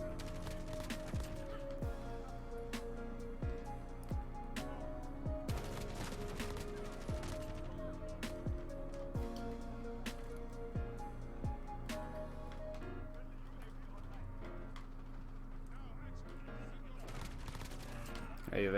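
Sustained automatic gunfire from a Kilo 141 rifle in the Call of Duty Modern Warfare video game, with repeated bursts and sharp shots layered over steady game music and effects throughout, with a player talking occasionally.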